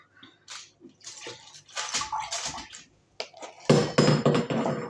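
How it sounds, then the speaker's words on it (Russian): Liquid is poured out into a kitchen sink, splashing and clattering against the basin in irregular bursts that get louder toward the end, close by with no talk. "от виливає туди в раковину"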